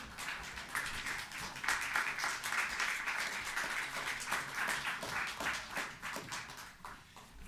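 Sustained applause from a graduation ceremony audience honouring business, hospitality and IT graduates, a dense steady patter of many hands clapping in a large hall with no talk over it.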